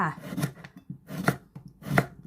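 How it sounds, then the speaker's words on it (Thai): A knife chops cucumber into small pieces on a cutting board, three firm, close thuds at an even pace with nothing else audible. "เราก็มาหั่นเป็นชิ้นเล็ก ๆแบบนี้นะคะ"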